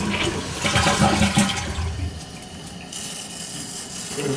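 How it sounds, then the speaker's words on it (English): A toilet that has been dumping water onto the floor, checked for a leak at the wax seal, flushes with a loud close rush of water that swirls down and then settles into a quieter refill hiss. "let's flush it and see if it leaks"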